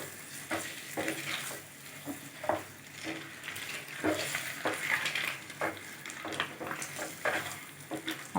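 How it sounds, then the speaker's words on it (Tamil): Boiled eggs frying in masala in hot oil in a pan, with a soft, steady sizzle under repeated scraping and stirring strokes of a spoon, close by. "இப்போது நல்லா ஒரு 5 நிமிஷம் எண்ணெயில் நல்லா ஃப்ரை பண்ணியாச்சுங்க"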